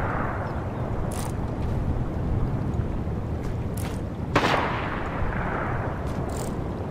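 Fortnite gunfire during a battle royale match: a few sharp, distant shots spaced across a steady rumbling game background, one louder crack standing out midway.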